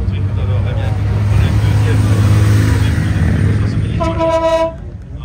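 A car horn sounds near the finish of the 2025 Tour Auto classic car rally, a short bright multi-tone toot rising over heavy engine rumble and crowd talk.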